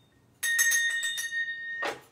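A small hand bell kept for convalescing guests rings in a quick cluster of bright strokes, then a clear sustained tone, close and alone, ending with a soft rustle.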